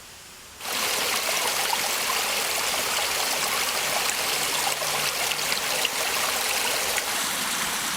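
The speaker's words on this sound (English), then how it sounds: "Got a beautiful creek here that we've got for water collection." A woodland creek used for water collection flows after a quiet opening second, then rushes and trickles in a steady, close, full wash of water that continues unbroken to the end.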